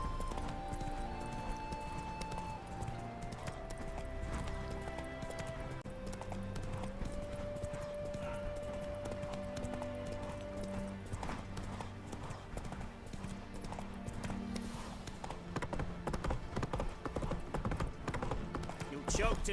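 Geralt's horse Roach trots along in The Witcher 3, steady clip-clop hoofbeats throughout under a sustained musical score.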